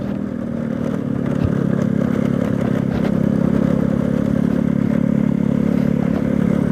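Yamaha Mio Matic automatic scooter climbing a moderate uphill road on a rural route, its engine droning steadily and loudly throughout with a low hum and some rattling clatter.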